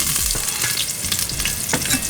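Pesto salmon patties sizzle and crackle steadily in a frying pan, a close, continuous fry with small popping bursts and no voices.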